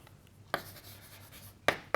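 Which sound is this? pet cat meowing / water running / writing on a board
writing on a board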